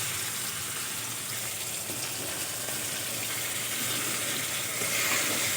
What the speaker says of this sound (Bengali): রসুন পেঁয়াজ বাটা আমি আরও কিছুক্ষণ ভালো করে ভেজে নেব